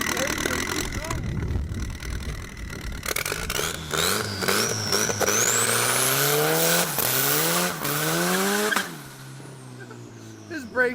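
A car engine revs hard and climbs in pitch through several gear changes during a clutch dump, then drops off abruptly as the brakes are applied, loud and close.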